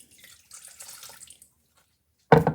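Three-quarters of a cup of warm water is poured into a mixing bowl, a faint short trickling hiss followed by a pause and then a brief louder splash close by.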